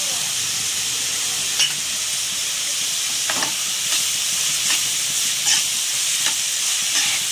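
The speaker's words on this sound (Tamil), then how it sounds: "இப்போ வெங்காயம் நல்லா வதங்கட்டும்" Onions sauté in oil with mustard and fennel seeds for an egg thokku, a constant bright sizzle broken by regular soft scrapes and clicks of a spoon stirring the pan, with no speech.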